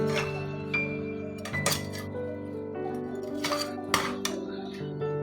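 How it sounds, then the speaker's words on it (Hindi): A spoon stirs mixed vegetables and frozen peas in a metal pot, giving bright, scattered clinks and scrapes over a steady tonal background. "मेरे पास फ्रोज़न मटर हैं, ये भी मैं इसमें ऐड कर रही हूँ और इस सब को मैं अच्छी तरह मिक्स कर लूँगी"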